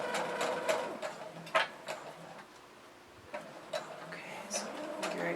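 A small domestic sewing machine stitches a bulky cross-body bag in short, quiet bursts of rapid ticking, separated by brief pauses.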